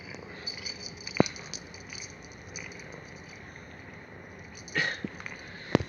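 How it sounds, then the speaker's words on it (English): A cat purrs softly and close as a low continuous rumble, with a few faint clicks and sniffs over it. "Just listening to her purr."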